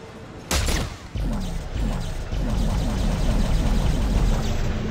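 Weapon fire in the video game Dead Space 3 comes as a loud, close burst of shots, then a rapid string of repeated reports amid a dense, noisy game soundscape, with no talking.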